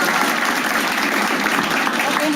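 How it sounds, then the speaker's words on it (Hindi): An audience at a standup comedy pitch show breaks into steady, dense applause, a continuous wash of clapping that holds at a constant level throughout. "ताली बजाइए लवीना के लिए एक बार।"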